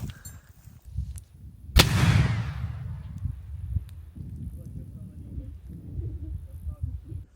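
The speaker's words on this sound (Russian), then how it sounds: "Граната!" RG-42 hand grenade detonating at an outdoor test range: a single sharp, loud blast with a rumbling decay, set against low background rumble and handling noise.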